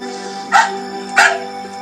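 A dog gives two short, sharp barks about half a second apart, fairly close, over a steady hum in the background.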